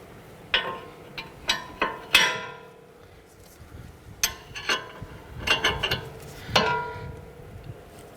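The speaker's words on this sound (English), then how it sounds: "We're gonna go ahead and loosen and remove the nut on the back side of the lower control arm bushing mount." A 22mm wrench working the nut on the lower control arm bushing mount of a 2009-2015 Honda Pilot, a series of close metallic ratcheting clicks and clanks in irregular bursts between quiet gaps.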